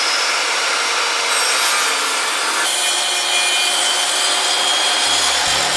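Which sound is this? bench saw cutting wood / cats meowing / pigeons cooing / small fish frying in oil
bench saw cutting wood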